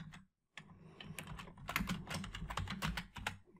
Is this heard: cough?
no